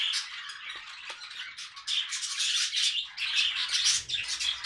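Flock of budgerigars in an aviary of a few dozen birds, chirping and chattering continuously and fairly close, dense overlapping tweets and squawks with no speech.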